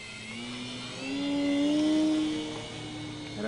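An electric model shoulder-wing airplane's 870 kV motor spins a propeller, giving a thin, steady whine that swells in pitch and loudness around the middle and then eases. The sound is fairly quiet and comes from nearby.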